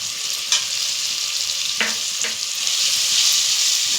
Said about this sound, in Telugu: అల్లం వెల్లుల్లి పచ్చి వాసన పోయేదాకా కొంచెం ఫ్రై చేసుకుంటూ